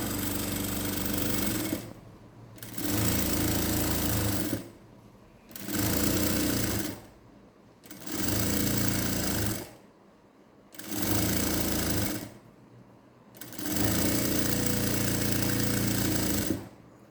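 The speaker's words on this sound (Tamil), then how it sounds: "ஃபோல்ட் பண்ணி ஸ்ட்ரைட் தைக்கலாம்" A sewing machine stitches straight seams along folded fabric in loud mechanical bursts, six runs of a few seconds each separated by short pauses, close and alone with no talk.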